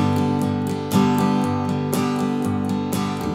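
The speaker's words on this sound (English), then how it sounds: "I'm keeping it light and brushy. But on the two count and on the four count, I'm gonna do a big, beefy, full strum" A strummed acoustic guitar plays the rhythm of a song, with light, brushy strokes and heavier, full strums landing on beats two and four. The strumming is close, bright and steady.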